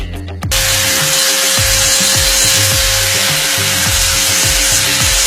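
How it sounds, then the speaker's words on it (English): An angle grinder spins up with a sharp start and then grinds steadily into a ferrocerium rod fire starter indoors, a loud sustained high whine with a constant tone and rhythmic lower chatter throughout. "what happens when you angle grind a ferrocerium rod"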